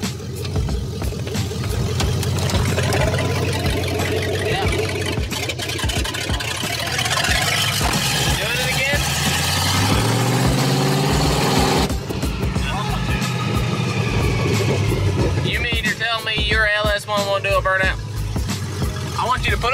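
A car engine revs hard during a burnout, a loud, continuous roar close by, with people talking and shouting over it throughout.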